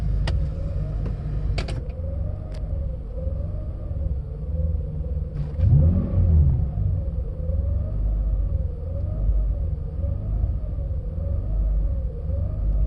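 A 1993 Mercedes 600SEC engine with a temporary muffler idles with a deep, steady rumble and slowly wavering drone, exhaust touching the body, with a few clicks and a brief bump midway.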